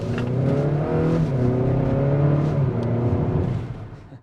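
A 2020 Acura RDX in sport mode accelerates hard, its engine note climbing steadily in pitch through the gears, loud and close from inside the cabin.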